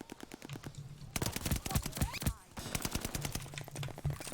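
Rapid shotgun and automatic gunfire from a video game firefight, dense bursts of sharp cracks in quick succession with brief pauses, loud and close, with game music and a voice faintly beneath.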